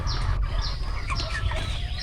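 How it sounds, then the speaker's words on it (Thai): Broiler chickens raised on a school farm make a busy chorus of overlapping clucks and squawks over a low hum, close by and continuous, with no one speaking. "นี่คือไก่ผมเลี้ยงอยู่ประมาณ นะครับ สองเดือนครับ"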